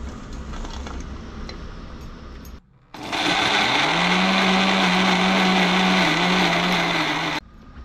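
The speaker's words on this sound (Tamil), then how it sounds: "இப்போ வந்து இதை மிக்சியில் போட்டு அரைக்கணும் வெங்காயத்தை." A kitchen mixer grinder whirs loudly as it grinds onions and tamarind into paste, a high steady motor roar after a brief pause and a short quieter stretch, cutting off near the end.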